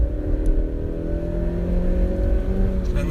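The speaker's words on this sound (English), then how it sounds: "In here we're pulling out of 30 mile an hour zone, dropped it into third" Mazda CX-5 SUV (2017) accelerating hard in third gear around 3,000 rpm out of a 30 mph zone, a steady engine drone with rising tone heard from inside the cabin, continuous and fairly loud with no talk.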